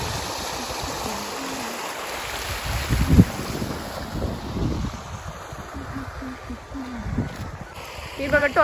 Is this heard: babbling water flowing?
yes